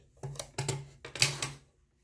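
Scissors snip through a charger cable in a few sharp cuts, each a short crunchy click, close and fairly quiet in a still room.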